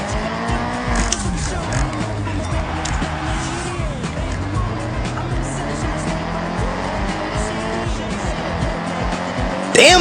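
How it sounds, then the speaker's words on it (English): In a video game, a car without traction has its engine droning and tires squealing continuously as it skids and slides, loud and steady throughout, with a brief burst at the very end. "This car got no traction."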